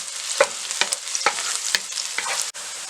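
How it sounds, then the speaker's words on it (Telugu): Chopped onions sizzle in hot oil for a chicken curry, with a steady broadband fry and several sharp scrapes of a spoon stirring the pan close by, no voices. "ఆయిల్ వేడైన తర్వాత 2 ఆనియన్స్ని ఇలా స్మాల్ పీసెస్ కట్ చేసుకుని వేసుకొని ఫ్రై చేసుకోవాలి."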